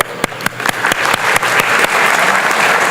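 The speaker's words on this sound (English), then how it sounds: "I'm going to give you a round of applause." Audience applause during a motivational talk, starting with a few loud, distinct claps in a quick rhythm that swell into dense, continuous clapping from the crowd.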